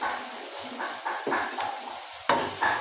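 Chopped onions frying in a pan for a minced meat dish, with a steady soft sizzle under repeated scraping stirs of a utensil, close and moderately loud, no talking.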